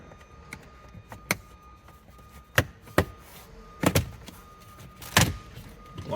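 Plastic trim panels on a Lexus NX200T are pried off their clips in a quiet car interior, giving several sharp snapping pops at uneven intervals, some of them close together in pairs.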